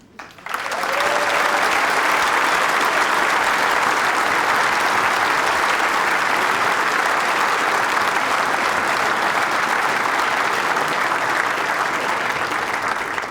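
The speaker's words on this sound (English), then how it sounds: "please your applause for the 2 finalists" Sustained applause from a large crowd for the two finalists at the World Snooker Championship, steady and loud throughout after a brief quiet start, with no clear talking over it.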